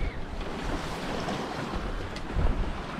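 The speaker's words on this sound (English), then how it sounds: "the weather is very gusty today" Strong gusts of wind roar against the microphone over rushing sea water aboard a sailboat with a reefed mainsail, a constant buffeting noise with a brief louder surge near the end.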